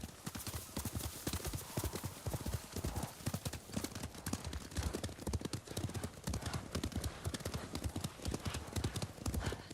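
Horses gallop in the video game Ghost of Tsushima with fast, loud, continuous hoof clatter close by that carries on without a break throughout.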